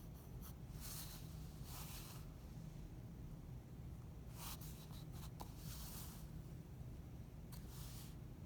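A pencil scratches across paper while drawing a box for a one-point perspective sketch, making several brief scratchy strokes in bursts over a steady background hiss.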